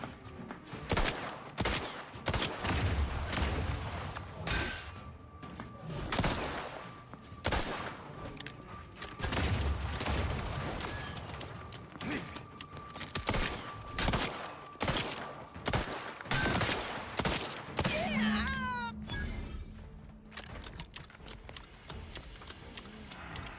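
A mini rocket launcher fires in the video game The Outer Worlds 2, letting off a rapid, sustained barrage of sharp shots and blasts that carries through most of the stretch amid in-game noise, with no speech.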